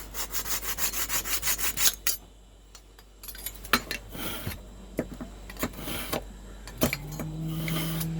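Knife drawn repeatedly through a small handheld sharpener built into a fishing tool: a fast run of rhythmic scraping strokes, then a pause and slower, irregular rasps and scrapes, close and fairly quiet.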